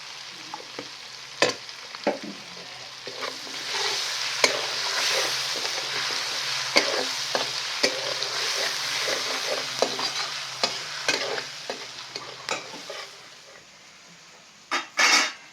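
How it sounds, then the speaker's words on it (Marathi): Green chilies and a pinch of asafoetida fry in hot oil for a spring onion greens dish: a steady close sizzle with scattered spatula clicks and scrapes throughout, ending in a few louder knocks. No voices. "तेल गरम झाल्यामुळं मिरची टाकल्या मी वाईस जराशी चिमूटभर हिंग त्यात टाकून घेणार आहे"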